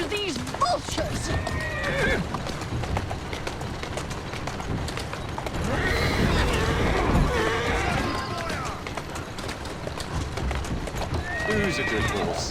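A horse in the video game Assassin's Creed Syndicate whinnies and snorts with galloping hoofbeats, while a person talks over it; the whinny rises again near the end.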